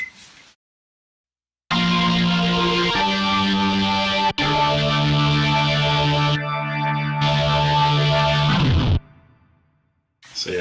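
A keyboard patch runs through an amp simulator, giving thick distorted sustained chords and notes with effects, loud and alone after a brief silence, then stopping.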